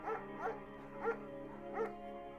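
In the video game Firewatch, a German shepherd dog named Mayhem barks four times in a steady rhythm, each bark clear and moderately close against a soft game background.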